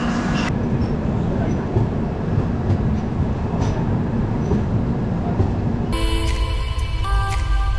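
A Raigarh Gondwana Express passenger train rolls along with a continuous rumble and rattling of the coaches, punctuated by faint clacks, and a brief tonal horn-like sound near the end.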